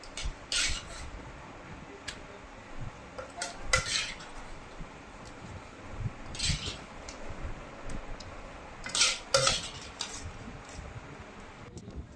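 Utensils scraping and clinking against plates and pots while kantola sabji is served out in a village kitchen, with intermittent metallic taps and scrapes over soft background noise.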